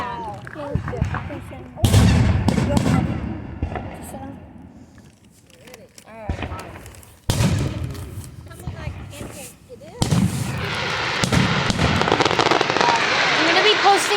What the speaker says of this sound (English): we are gonna be watching fireworks tonight